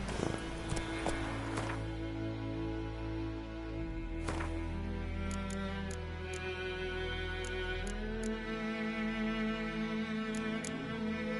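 A horse gallops steadily through The Witcher 3 video game, hooves clip-clopping in a continuous rhythm over a sustained music bed, with a few sharp ticks and no talk.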